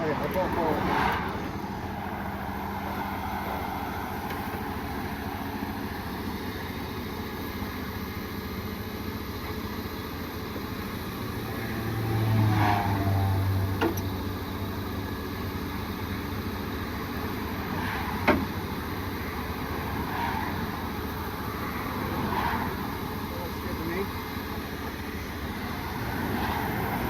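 A vehicle engine hitched to a trailer drones steadily as it pulls forward, moderately close, with a faint rise in the middle and a few brief knocks and clunks.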